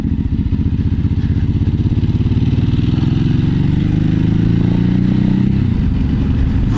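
A 2016 Ducati Hypermotard 939 motorcycle engine runs steadily while riding, a loud close throbbing drone with rising and falling pitch as the throttle changes, easing off near the end.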